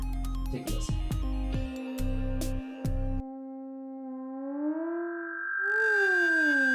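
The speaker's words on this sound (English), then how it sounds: "if you turn this knob up too much, you get the same effect as if you had just put a microphone directly in front of a speaker" A theremin fed back through a Boss DD8 delay pedal in analog mode gives a steady sine-like tone that bends upward, stacking overtones and slowly swooping in pitch. It comes in alone after a brief spoken introduction.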